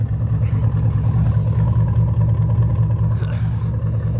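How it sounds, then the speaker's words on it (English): Fifth-generation Camaro SS V8 with a single-chamber exhaust idling, a deep, loud, steady low rumble that throbs evenly and stays close throughout, with no talking. "Single chambered exhaust, it's way better than duals. It's way louder. It sounds better, it's deeper."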